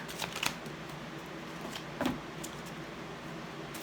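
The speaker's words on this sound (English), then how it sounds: "One more shuffle." A deck of tarot cards is shuffled close by in a quiet room, two brief riffling bursts separated by a soft pause, with no talk over them.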